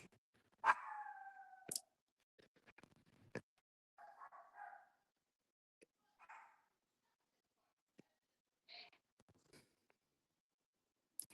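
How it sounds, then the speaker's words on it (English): A dog barks somewhat distantly in a quiet indoor setting, a couple of short bursts of barking and whimpering separated by silence and small clicks. "okay, sorry about that dog barking in the background."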